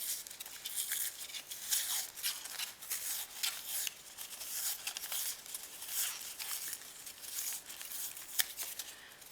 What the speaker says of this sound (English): It just tears, just gently peel away.